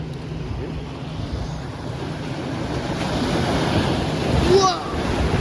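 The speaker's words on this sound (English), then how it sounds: "Oh, there goes the wave." High-tide surf at Avon by the Sea rolls in with a steady broadband wash over wind buffeting the microphone, building to a louder crash near the end.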